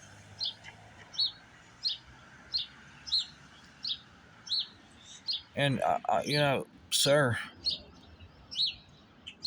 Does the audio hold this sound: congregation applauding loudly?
no